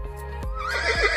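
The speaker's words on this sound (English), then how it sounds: "It was a horse" A horse whinnies close and loud in one short, wavering neigh, with a quick thump or two of hoof movement beneath it and no voices.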